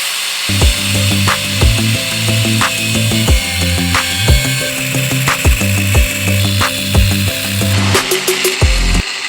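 A bicycle frame being cut along a weld, a loud close rhythmic sawing with repeated strokes and a buzzing tonal rasp that stops near the end.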